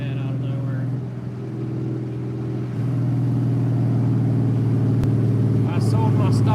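Ford Cobra with a Coyote engine swap revving loud and near in steady throttle stabs, a deep engine drone rising in pitch and level partway through, with a voice speaking over it.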